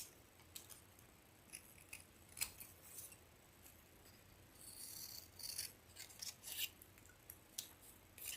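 Scissors snip through paper while making a card, a quiet run of crisp, irregular cuts and rustles close by, each snip a short sharp crackle, with no talking.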